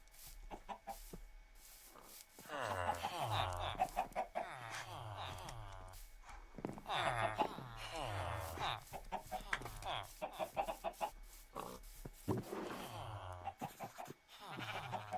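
Blocky Minecraft chickens cluck repeatedly nearby in short choppy bursts, mixed with bleating farm animals in a steady barnyard chatter.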